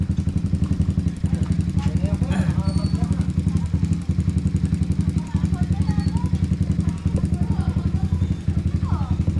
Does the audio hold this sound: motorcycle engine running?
yes